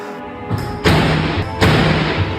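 Loud heavy thuds strike an apartment's front door in an officetel building, three forceful bangs spaced unevenly within about two seconds, close and booming with no talk.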